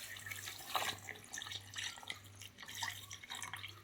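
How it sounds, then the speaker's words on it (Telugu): Chilled milk poured into a container for a sapota milkshake, a faint, soft trickling and splashing of liquid heard close up in a quiet kitchen. "కూల్ పాలు ఇవైతే పోస్తున్నాను."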